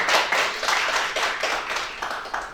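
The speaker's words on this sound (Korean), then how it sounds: "박수로 청하겠습니다." Applause from an audience at a Korean press association presidential candidate debate, a dense run of clapping with a loosely pulsing rhythm, fairly close and steady throughout with no talk.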